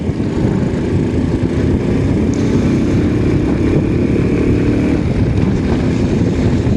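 A Honda C90 motorcycle fitted with a swapped Lifan 110 engine on a test ride, its engine droning steadily and loudly under heavy wind rush with no voices.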